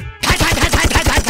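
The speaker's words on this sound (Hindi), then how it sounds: "और दोनों तरफ से फायरिंग।" Rapid gunfire from a Bhojpuri action film shootout: a loud continuous volley of about a dozen evenly spaced shots in quick succession, close and dominant, with no voices.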